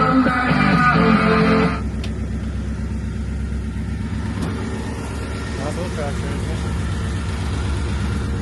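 A 1964 Chevelle engine idles steadily with a low, even rumble, louder and busier in the first two seconds before settling into a quieter continuous run, with a few clicks and knocks over it.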